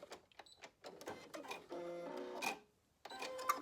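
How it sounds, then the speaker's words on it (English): A sewing machine backstitches a short seam on a cotton gaiter, with bursts of steady mechanical whirring broken by brief pauses and a faint click near the end, close and alone. "Coming to that needle, I'm going to back stitch"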